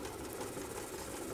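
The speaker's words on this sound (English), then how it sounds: "But the machine sews a little more slowly" A Juki 563 industrial walking foot sewing machine with a speed reducer and 550 watt servo motor stitches at a steady, moderate pace, a continuous close mechanical whir with rapid needle clatter.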